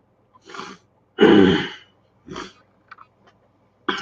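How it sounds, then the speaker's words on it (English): Several short throaty bursts with pauses between, one longer and louder rasping effort in the middle, like someone repeatedly trying to clear their throat, close up. "Oh, I cannot clear my throat tonight."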